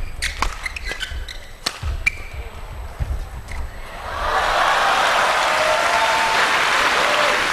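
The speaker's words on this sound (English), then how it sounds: "as you can hear, the crowd here at the Macau Forum enjoyed that as well" A badminton crowd at the Macau Forum breaks into loud sustained applause after a few scattered sharp claps and thuds from the court, the clapping swelling into a broad roar that continues to the end.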